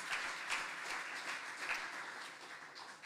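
A church congregation claps together in a continuous, soft, distant-sounding wash of applause, steady in intensity for the few seconds heard.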